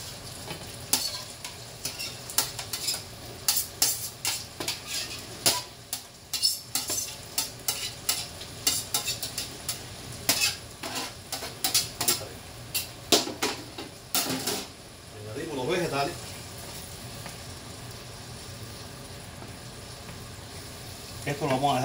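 Vegetables for Sicilian caponata go into a hot pan and are stirred, giving repeated scraping clatter over a steady close sizzle, with frying hiss continuing alone toward the end.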